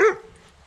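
A single short dog bark at a campsite near Glastonbury, sharp and fairly close, followed by quiet outdoor background.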